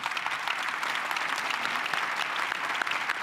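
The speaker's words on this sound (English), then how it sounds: "Let's give them a round of applause." Steady round of applause from a symposium audience, a dense wash of many hands clapping at moderate distance, even and continuous for a few seconds with no voices on top.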